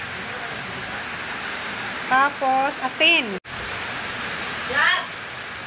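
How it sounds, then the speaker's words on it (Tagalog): Heavy rain pours down in a steady, even hiss that fills the background, while a person speaks intermittently over it. "ang lakas na ng ulan dito sa amin"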